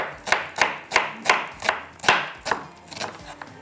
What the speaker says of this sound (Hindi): प्याज को स्लाइस में कटिंग करते हैं